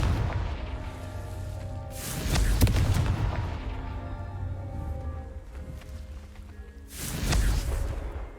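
Confringo blasting spells from the Hogwarts Legacy video game set off two loud, booming explosions a few seconds apart, each with a rumbling tail, over continuous game music and ambience.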